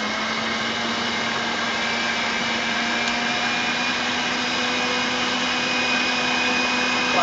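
Electric mixer whisking cake batter in a home kitchen, a steady continuous motor whine running loud and unbroken throughout with no voices.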